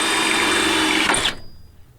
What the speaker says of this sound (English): I'm going to drill a hole in the bottom of this so that it'll drain